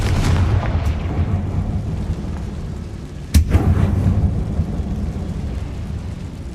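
A Confringo fire spell bursts in the video game Hogwarts Legacy, a sharp booming blast at mid-clip over a dense, rumbling low background of game ambience and effects.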